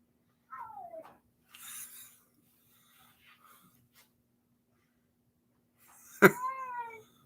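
An agitated cat lets out a whiny descending meow, some softer grumbles, then a sharp loud yowl that trails off, close by in a quiet space.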